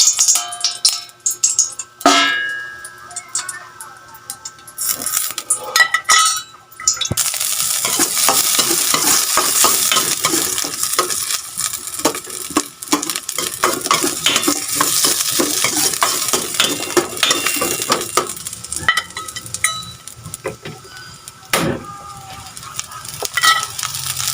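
Onion and garlic sautéing in a pan over high heat, a strong crackling sizzle with repeated clattering stirs and scrapes of the utensil against the pan, starting quieter and becoming louder and busier.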